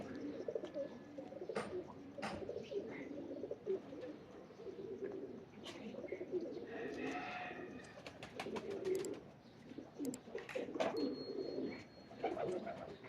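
Prized pigeon cooing in soft, low rolling calls, repeated steadily and fairly near over a busy background of faint bird chatter and clicks.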